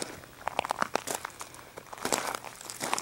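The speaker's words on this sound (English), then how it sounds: "you can probably hear my feet crunching on the gravel here" Feet crunching over loose gravel outdoors, a run of close, crisp irregular crunches and scrapes at walking pace with no talking.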